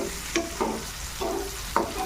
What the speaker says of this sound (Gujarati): એને આપણે તેલમાં બરોબર ફ્રાય થવા દઈએ